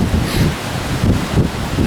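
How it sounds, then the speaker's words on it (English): Strong spring wind buffets a microphone outdoors while riding fence, a loud, steady roar that swells and dips in gusts, with no one speaking. "Wind blowing around here like it does out west."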